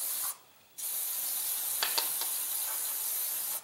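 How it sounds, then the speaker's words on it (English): A steady, broadband hiss of aerosol spray runs almost continuously, broken by one short pause near the start, with a few faint clicks partway through. "spray down my whole box with this"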